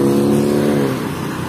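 A Laju Prima bus, a Hino RK with an SHD Jetbus 2 body, rolls into a fuel station, its diesel engine a loud close low rumble that holds steady and then eases slightly as it passes.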